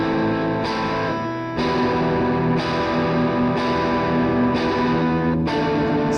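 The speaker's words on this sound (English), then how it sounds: "So this is my real guitar recording." A real electric guitar played through distortion and effects, thick sustained chords changing every second or so in a steady rhythm, loud and continuous with no voices.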